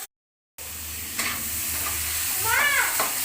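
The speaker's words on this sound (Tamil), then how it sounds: "லைட்டாக உப்பு போட்டுக்கலாம் அப்போ தான் வெங்காயம் வந்து சீக்கிரம் வதங்கும்" After a brief silence, onions sauté with salt in a pan, giving a steady close sizzle broken by a single clack and a squeaky scrape of a spoon.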